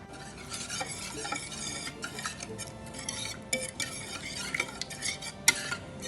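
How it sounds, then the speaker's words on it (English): A spoon scraping and stirring vinegar, olive oil and spices into a paste in a bowl, with close, steady, gritty scraping and occasional light clinks of utensil on dish. "Now we're going to mix up all these ingredients and make a paste."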